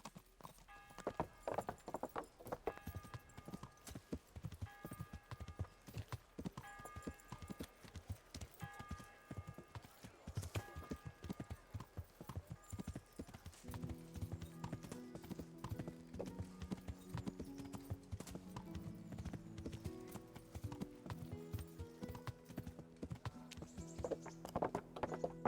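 Horse hooves clip-clop in a steady rhythm in Kingdom Come: Deliverance, fairly close and distinct, with in-game music rising beneath the hoofbeats partway through.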